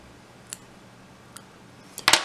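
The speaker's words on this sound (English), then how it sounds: "Here I can now cut off the tag ends." Sharp snips of scissors trimming thread tag ends at a fly-tying vise, a few faint isolated clicks followed by a louder double snip at the end, in a quiet room.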